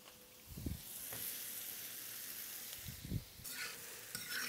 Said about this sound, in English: in with that butter go the onions and the mushrooms